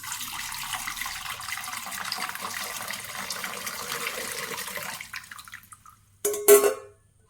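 Melted jaggery syrup strained through a filter for Karthigai Deepam appam, a steady liquid pouring and trickling for about five seconds, then a short louder splash of liquid near the end.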